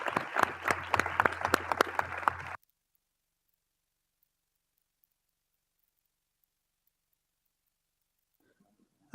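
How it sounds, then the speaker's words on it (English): A short burst of audience applause at an air quality governing board meeting, close, busy clapping lasting about two and a half seconds before cutting abruptly to silence. "Please join me with one last round of applause for everyone."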